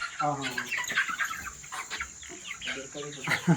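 Country chickens on a village poultry farm cluck and call close by in a steady, busy flock chorus, with faint rustling and wing flaps mixed in.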